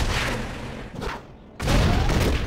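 Units opening fire in the strategy game Infantry General Contra X, a loud burst of gunfire and booms that drops briefly to a quieter rumble before a second heavy volley.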